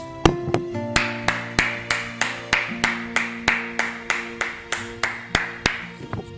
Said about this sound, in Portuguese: vamos glorificar o Senhor com palmas